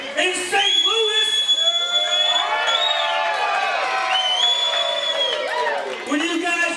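A wrestling crowd at an all-star show in St. Louis cheers and shouts loudly, with high excited voices and whistles rising and falling in a dense, continuous roar.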